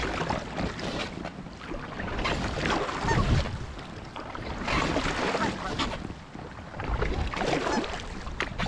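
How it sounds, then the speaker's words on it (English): Kayak paddling on a windy lake, with steady wind rush and water splashing from paddle strokes in a continuous, moderately loud wash that has no clear rhythm. "paddling out here"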